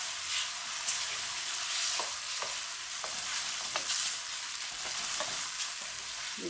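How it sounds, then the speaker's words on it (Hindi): Potatoes sauté in hot oil in a pan for aloo baingan, a continuous sizzle and crackle with occasional stirring scrapes, close and alone. "आपने 2-3 मिनट इनको ऐसे भूनना है"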